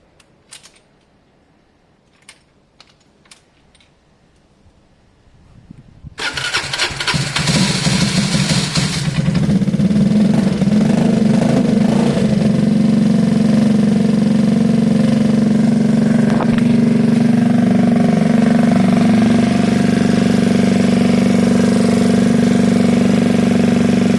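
A Gilera DNA 125 motorcycle engine fires up after a few faint clicks and settles into a loud, steady idle that runs on alone for the rest of the stretch.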